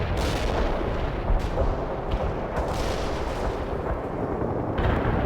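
Soviet artillery barrage in the video game World in Conflict, a dense, loud roar of overlapping booms and blasts rumbling continuously with sharper impacts scattered through, no speech.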